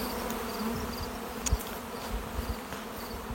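Bees in an outdoor bee yard hum in a soft continuous buzz, with several individual insects whining past, fairly quiet overall.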